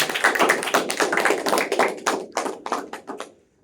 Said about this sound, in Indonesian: Beri tepuk tangan Mas Rafiq